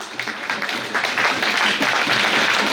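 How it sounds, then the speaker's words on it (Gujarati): Loud, sustained applause from an audience asked to stand at a school gurukulam event fills the space, a dense steady wash of clapping that swells slightly and holds without a break. "જોરદાર તાળીઓ આપો"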